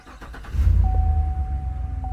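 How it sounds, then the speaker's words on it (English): A Cadillac Escalade engine cranks and catches, settling into a low rumbling idle with a faint steady whine, heard up close while the fuel system runs dry. "We can verify by starting the car."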